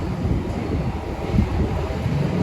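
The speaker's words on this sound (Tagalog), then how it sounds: "Tapos medyo malakas yung hangin." Strong wind gusting outdoors at a pigeon loft in Binangonan, a steady low rumbling roar buffeting the microphone throughout, with no voices.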